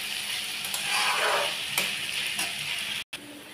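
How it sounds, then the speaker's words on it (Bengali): Yardlong beans and potatoes fry in a pan over moderate heat, giving a steady close sizzle with faint stirring clicks and a brief break. "এইবার আমি এইভাবেই বরবটি আলুগুলোকে ভাজতে থাকবো"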